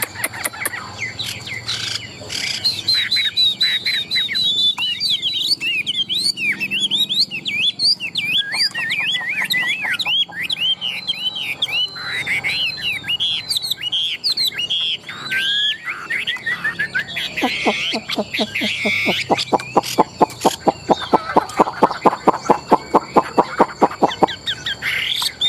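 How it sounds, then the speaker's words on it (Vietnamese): A hwamei, or Chinese laughingthrush, with a big, full song pours out loud, continuous, varied whistled phrases and rapid trills close by, with no talk. "Bộ to hót cầu cầu rất là ok luôn nha các bác nha."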